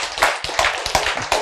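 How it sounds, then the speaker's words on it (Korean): A classroom audience claps in a quick burst of sharp, close hand claps, roughly a dozen uneven strikes in about a second and a half. "박수 한번 쳐주세요"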